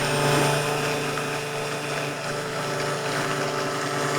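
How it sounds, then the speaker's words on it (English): Immersion blender whirring steadily through homemade garlic mayonnaise, a loud continuous motor drone with a dense, even buzz that holds for several seconds without pause. "I'm doing an immersion blender"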